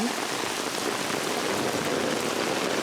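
Heavy rain pours steadily, a dense hiss of drops drumming on surfaces with no pauses.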